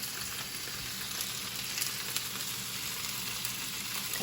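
Frozen asparagus and mushrooms hiss in a hot pan, a soft, even crackling sizzle that holds steady throughout, fairly quiet with a faint high ringing tone above it and no voices.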